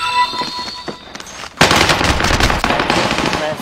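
Sustained automatic gunfire erupts from Call of Duty: Warzone, starting with a few scattered shots before a loud, rapid burst of machine-gun fire runs continuously to the end.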